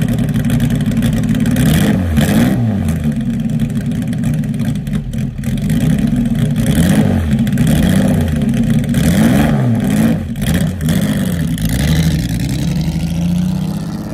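A loud Aston Martin DBR1 engine revs continuously, rising and falling in pitch over and over with a deep mechanical roar and no voices.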